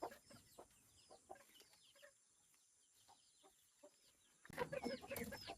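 Chickens cluck softly in short, scattered bursts, then a louder flurry of clucking and squawks breaks out near the end, fairly close by.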